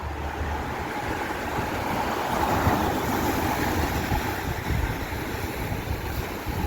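Steady sea breeze blows across the microphone at Marine Drive in Mumbai, a loud, continuous rush of wind with low buffeting and a faint wash of surf beneath, no voices.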